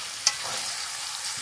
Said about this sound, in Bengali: কিছুটা মাংস দিয়ে মশলার সাথে কষিয়ে নিল যাতে মশলাটা কড়ার নিচে লেগে না যায়